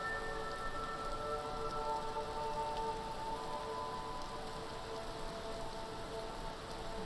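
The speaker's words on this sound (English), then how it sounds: "I think we'll bring the interior rain down a little bit" Steady rain pours in Skyrim, a continuous even hiss of falling drops on surfaces, unbroken and moderately quiet from start to finish.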